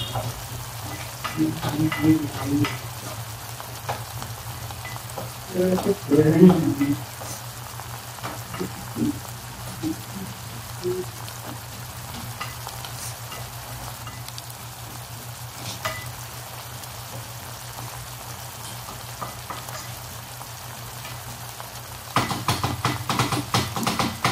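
Steady sizzling of egg tomato curry in a frying pan with intermittent scraping and stirring clatter, a louder burst of stirring early on, then continuous frying with faint background hum.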